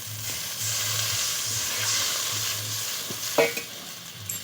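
Sizzling masala with tomatoes for a fish roe curry crackles steadily in the pan as water is added, with a short sharp hiss and stirring near the end.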